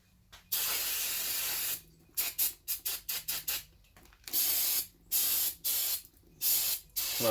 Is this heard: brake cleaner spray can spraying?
yes